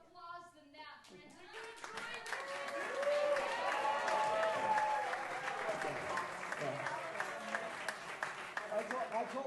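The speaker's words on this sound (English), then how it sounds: "I need a larger applause than that, Brent." A banquet audience at a master chorale dinner breaks into warm, sustained applause that builds after a few scattered claps, with many hands clapping at mid distance while voices talk over it.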